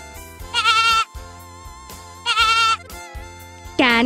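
A goat bleats loudly three times, each wavering call about half a second long and spaced apart, over quiet background music, with no talking.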